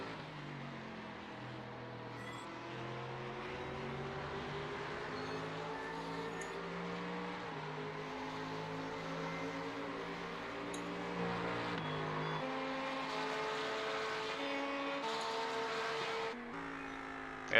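A Lamborghini race car driving at Sebring during a 12-hour race, its engine note climbing and shifting through gears in a steady, moderately distant drone, no talk.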